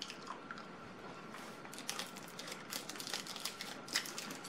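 Chewy French caramel candy being eaten close up, with a run of soft sticky squishing and smacking chews that grow busier toward the end, without any talking.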